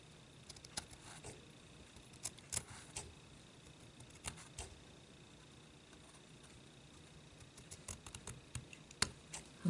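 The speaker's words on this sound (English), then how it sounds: "we're going to cut this right along the edge here" Scissors snip along the edge of a handmade paper gift card pocket tag, faint scattered crisp cuts and small ticks in a quiet room, some louder snips near the end, no talking.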